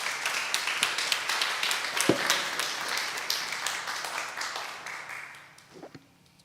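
A church congregation at a Flower Communion service gives warm applause, a steady patter of many hands that gradually thins out and fades to quiet.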